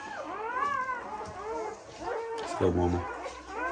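Dogs at a kennel, bottle-fed pups among them, whimper and give short howling cries, fairly faint and close, while a person speaks encouragingly over them.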